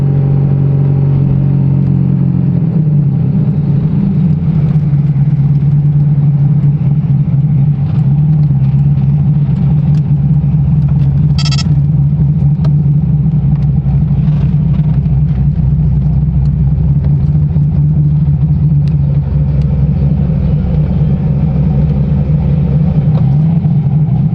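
A car with its exhaust valves open idles and revs at a car meet, a loud, steady, deep engine rumble running throughout.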